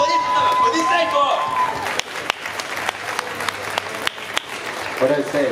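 A convention crowd at a comic con applauds after a host's prompt, a broad wash of clapping under a loud voice with scattered sharper claps.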